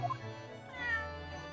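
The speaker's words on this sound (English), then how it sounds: "Wagahai just freaking meows." A cat meows in the video game The Great Ace Attorney, a short clear mew followed by a longer drawn-out meow, close and quiet with no talking.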